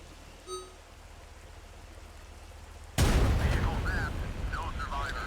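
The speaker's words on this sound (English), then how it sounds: "Weather effects are nice." Steady broadband rain hiss in the RTS wargame Regiments, starting abruptly partway through after a quiet stretch, then continuing loud and even with faint game sounds layered on top.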